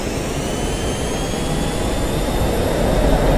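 A jet fighter engine roars during takeoff in the combat flight simulator DCS World. It is a loud, steady, close rumble with a high whine that keeps building, and no one speaks over it.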